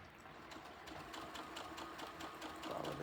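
Sewing machine stitching around a quilted cow head, a steady rapid mechanical whir with a fine repeating needle rhythm, close and continuous for the whole stretch.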